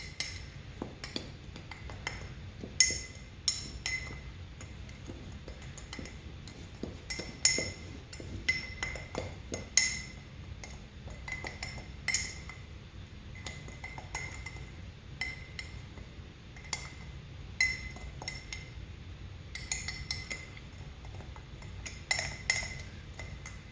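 A spoon clinks sharply against a bowl, tapping and scraping in irregular bursts while homemade fajita, taco or chili seasoning is mixed. The sound is close and fairly quiet, with no talking.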